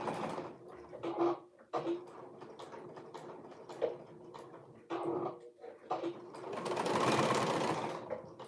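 A sewing machine stitches fabric in short and longer runs, quiet and close, with a steady whirring burst near the end and pauses between stretches of stitching.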